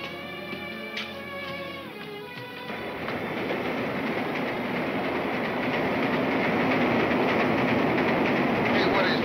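A train rumbles past on the rails, its roar and clatter swelling steadily louder and filling the scene, with a brief tonal sound near the start.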